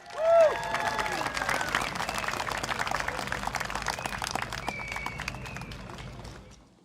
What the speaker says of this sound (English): Can we give a round of applause for Jufri from Sembawang GRC,